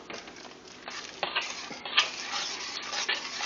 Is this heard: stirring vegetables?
yes